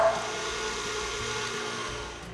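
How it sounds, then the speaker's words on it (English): A stand mixer beats a block of cream cheese and a stick of butter for cupcake frosting, giving a steady, even motor whir that runs unbroken from start to finish with no talking. "I'm going to put a block of cream cheese and a stick of butter into my stand mixer"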